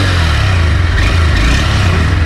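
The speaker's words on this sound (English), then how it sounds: "So let's now start the engine sound and listen the silencer sound." A Honda Hornet 2.0 BS6 motorcycle engine idles through its silencer, a steady low rumble held close and even throughout with no talking.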